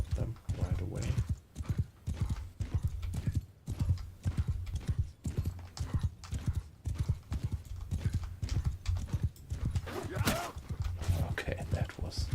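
Horse galloping in the video game Mount & Blade II Bannerlord, a steady rapid rhythm of hoofbeats running throughout with an occasional whinny, while someone talks over it at times.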